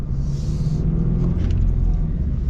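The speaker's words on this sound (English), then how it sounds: "rev match on the downshifts because it's a flat 4-cylinder" Flat-four engine of a 2025 Toyota 86 Hakone Edition, a small rear-wheel-drive sports car, droning loud and steady from close by with low rumble throughout, rev blips on downshifts blending into the continuous engine note.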